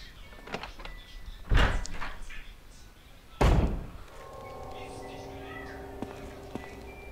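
In the Resident Evil HD Remaster video game, a door unlocked with the sword key gives two heavy thunks a couple of seconds apart, followed by a low mechanical hum and faint clicks.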